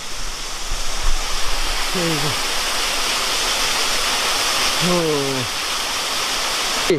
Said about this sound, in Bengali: এখানে আরো একটা ঝর্ণা।